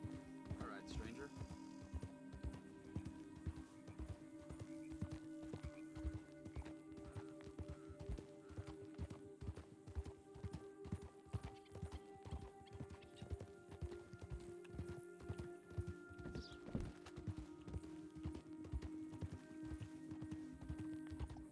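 Horse hooves in the game Red Dead, played on the WildRP server, clop in a steady fast rhythm for over twenty seconds, under a low droning ambient tone, with a voice talking at times.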